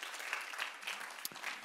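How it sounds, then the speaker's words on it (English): A church congregation claps steadily in a dense, even burst of applause, moderately loud with a few sharper claps standing out, no voices over it. "Let's give the Lord a round of applause for His goodness"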